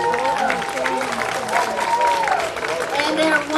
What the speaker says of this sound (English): Let's give this cast another big round of applause.